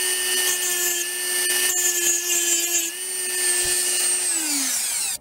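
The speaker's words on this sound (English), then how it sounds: "So I'll cut it off and flatten the head with the Dremel" A Dremel rotary tool grinds down a metal pin head, giving a steady high whine with a bright grinding hiss that holds for several seconds, then winds down at the end.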